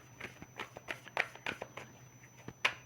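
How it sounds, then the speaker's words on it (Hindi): Tarot cards are shuffled nearby in a quiet room, giving a series of soft, irregular riffling and slapping bursts with one sharper snap near the end. "now I will take out my tarot cards"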